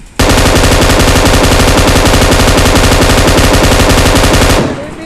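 Sustained, very loud rapid automatic gunfire from PUBG Mobile, a continuous close burst of rounds lasting several seconds with no pause, then cutting off abruptly.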